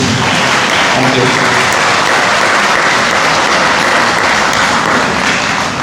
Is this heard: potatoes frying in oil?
no